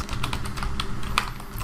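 Keys clacking on a computer keyboard as text is entered into a spreadsheet cell, a brief close burst of quick irregular taps with no talking.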